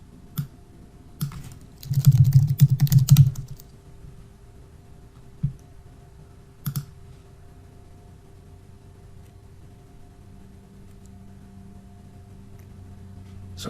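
Brief bursts of typing on a computer keyboard, a quick cluster of close clicks followed by a few isolated keystrokes, over a quiet room with a faint steady hum.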